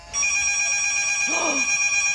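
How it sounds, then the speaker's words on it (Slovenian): An old telephone rings with a steady, bright bell tone held throughout, close and fairly loud, with a brief low warble rising over it partway through. "Ta telefon dejansko dela."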